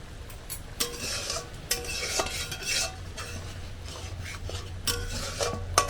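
Momo sauce of ginger and green chilli paste simmers in a pan while a metal spoon stirs and scrapes it, sharp clinks recurring over a low bubbling sizzle, with no talking.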